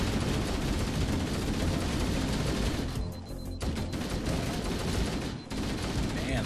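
Dense, continuous gunfire from Flood enemies in Halo: Combat Evolved Anniversary roars nonstop as a loud barrage of overlapping shots and blasts, with only a brief lull partway through and some faint voice beneath.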